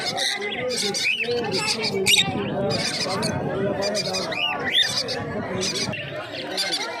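Lutino Fischer's lovebirds chattering at a pet market, bright shrill chirps and squawks coming in bursts beneath someone talking close by over market background.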